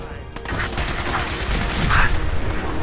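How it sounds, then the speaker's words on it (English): Gunfire and explosions in the video game Fallout 4 make a dense, loud rattle of rapid shots with a blast swelling near the end, one continuous burst of combat noise. "That was an explosion, but it worked."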